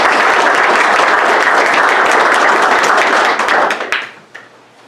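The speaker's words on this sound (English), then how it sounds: "Now, how about a round of applause for these guys?" Applause rises at a township board of supervisors meeting: a loud, dense burst of clapping from a roomful of people that holds steady, then thins out and stops near the end, leaving a few stray claps.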